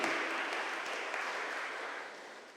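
Congregation at a Sunday Mass applauding the choir, a steady wash of clapping that fades slightly toward the end, heard from a distance in a church.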